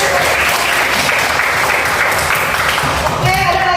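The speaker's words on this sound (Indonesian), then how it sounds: "Ya, tepuk tangan" Classroom applause, a brisk burst of dense clapping from a group of students, close and fairly loud, with a few voices mixed in near the end.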